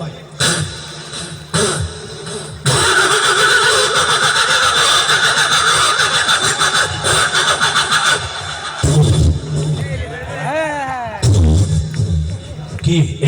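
A man vocally imitates a car engine cranking and catching, giving short sputters, then a long loud steady rasping drone, followed by wavering throaty revving sounds near the end.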